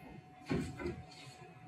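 The door of a SaniServ Model B-5 or B-10 batch freezer ice cream machine opening, a short, close mechanical clunk followed by softer handling noise, heard alone and fairly faint.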